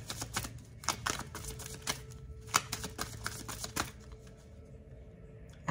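Tarot cards being shuffled by hand in a quiet room, a rapid, close run of crisp riffling clicks and flutters that fades toward the end.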